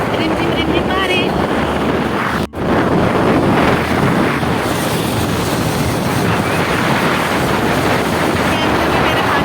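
Light drizzle falls outdoors during Chhath Puja, with water landing on the camera. It makes a loud, continuous rushing hiss, like wind buffeting the microphone, that barely lets up throughout.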